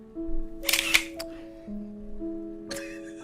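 A camera shutter fires as a picture is taken: a quick cluster of crisp clicks, then one more isolated click a couple of seconds later, over a steady low electronic hum.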